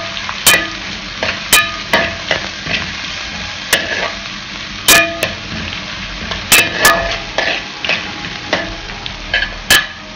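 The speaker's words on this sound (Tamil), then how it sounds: "வெங்காயத்தை நல்லா வதக்கிட்டு" Onions sautéing for an egg curry (muttai kulambu), a constant bright sizzle in the pan punctuated by frequent sharp metallic clinks and scrapes of a spatula, close and fairly loud, no voices.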